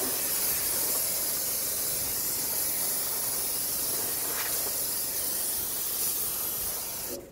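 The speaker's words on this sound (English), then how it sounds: "spray brake parts cleaner all over this area so I can eliminate as much dust as possible" Aerosol brake parts cleaner hisses in one long continuous spray onto the rear brake assembly of a 2003–2008 Toyota Corolla, loud and close, with no talking.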